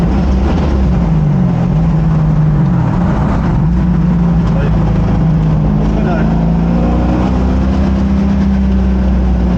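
Ford Mustang engine at the Paul Ricard circuit, a loud, close, deep rumble that swells and dips with revving throughout, heard from inside the car with people talking over it.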